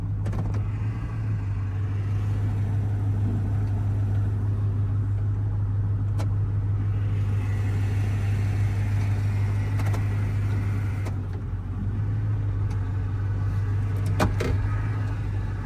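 A truck with a blown transmission idles after being shifted into first gear, a steady deep engine rumble with a strong low drone running throughout, close and continuous, with faint clicks over it.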